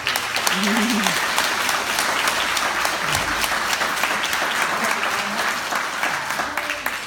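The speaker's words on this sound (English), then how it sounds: "give all these guys a round of applause because they're doing up their Saturday." Audience applause for volunteers at a Gorilla Cup event in Montana, dense and steady throughout, with voices heard speaking over the clapping.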